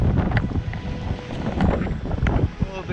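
Strong wind buffets the microphone while winter sailing a sailboat in Norway amid crossing seas, a steady roaring rush with gusty surges and some water noise throughout.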